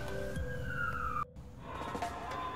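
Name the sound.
ambulance siren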